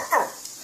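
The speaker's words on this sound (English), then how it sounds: "What kind of bark is that?" A small dog lets out a single odd, strained bark, close and fairly loud, fading into quiet room noise. A person talks nearby.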